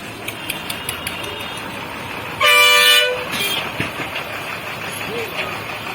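A Shaktiman truck's horn gives one loud honk lasting about half a second over steady outdoor engine and road noise, with people talking nearby.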